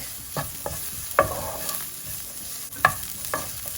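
A slit red chili drops into hot oil for a masala urad dal tadka, giving a steady sizzle with a few sharp spatter bursts and stirring clinks.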